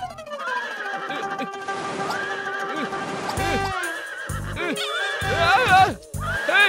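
A cartoon horse whinnies in a long, loud, wavering neigh, then gives several shorter snorting whinnies broken by brief thumps, close and dominant, in an animated Motu Patlu episode dubbed in Indonesian.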